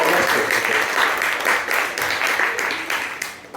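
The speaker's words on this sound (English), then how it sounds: "Could I get a big round of applause for Johnny?" A live crowd at a Liquid Swords event in Ramsgate applauds Johnny with loud, sustained clapping that swells and eases slightly before tapering near the end.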